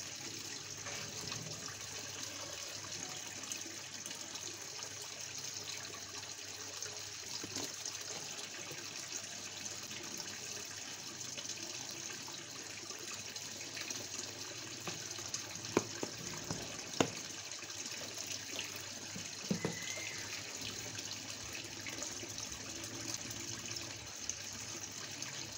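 Running water trickles and gushes steadily over koi fish food as it dissolves, a continuous watery wash with a few louder splashes and knocks.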